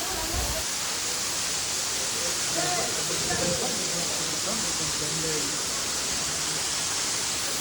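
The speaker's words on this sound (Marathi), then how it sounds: "हे बघा किती मस्त वॉटरफॉल पडतो एकदम मी आता पाऊस चालू आहे ना" A monsoon waterfall pours near the Kondhana caves on a rainy trek near Karjat, a loud, continuous broadband rush of falling water, with voices faintly audible underneath.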